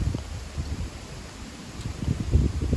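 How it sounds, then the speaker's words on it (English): Strong wind on a golf course buffets the microphone in uneven, gusty low rumbles that rise and fall, with no other clear sounds. "It's into a strong wind, as you can probably hear."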